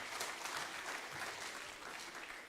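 Faint, steady clapping from an audience at a surgeons' conference, a continuous crowd patter heard from a distance for a couple of seconds.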